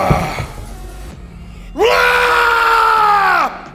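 A man gives a loud, sustained scream of effort while attempting a heavy lift, rising sharply and holding strong for nearly two seconds before cutting off, after quieter grunting and background commotion in a gym setting.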